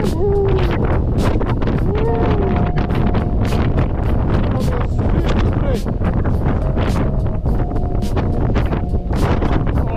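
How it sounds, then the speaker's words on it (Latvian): Loud, constant wind on Madeira buffeting the microphone with roaring rumble throughout, and faint tonal whistles and short sounds mixed into the gusts. "baigais vējš!"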